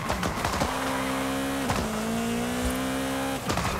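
A tuned Abarth 595 Esseesse of roughly 700 hp in Forza Horizon 5 accelerates hard, its engine note holding a loud, steady rising drone broken by two quick gear-shift gaps, with no voices.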